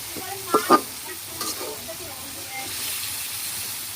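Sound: broiler chicken meat frying in a pan

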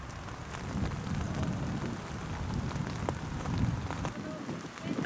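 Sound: rain falling during a walk in a park

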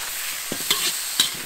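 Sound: stir-frying yak hooves with seasoning in a wok

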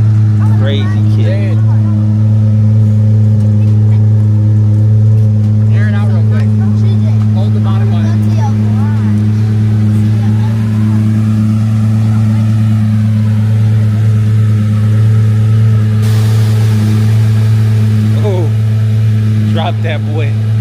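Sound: Lamborghini Aventador engine revving and accelerating

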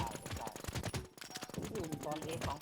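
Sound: gunfire in a video game

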